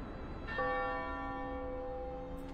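A single bell in the frozen city-builder Frostpunk strikes once and rings out with a long, slowly fading metallic tone over a soft ambient background.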